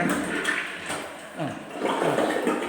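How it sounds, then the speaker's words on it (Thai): A dual-flush toilet (3 and 6 litres) in a newly renovated bathroom flushes with a loud, continuous rushing swirl of water that surges and gurgles throughout, with a voice faintly present. "เดี๋ยวจะให้ดู ประสิทธิภาพของชักโครกนะ"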